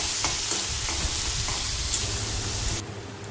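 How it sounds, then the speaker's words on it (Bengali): Chopped onions frying and being stirred in a pan until reddish, a steady close sizzle with soft stirring scrapes throughout, easing near the end. "ভালো করে একটু লাল লাল করে ভেজে নেব পেঁয়াজটাকে।"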